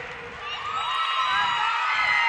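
Gymnastics meet crowd in an arena cheering and whooping after a women's floor routine ends with a double pike, a steady swell of voices that builds slightly and holds loud throughout.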